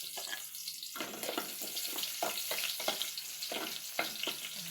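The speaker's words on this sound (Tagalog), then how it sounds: "Unahin po natin igisa yung bawang." Garlic sautéing in a pan for pinapaitang tilapia, a close, bright sizzle that bursts in as the garlic hits the hot oil, then keeps crackling with a spatula stirring and scraping at intervals.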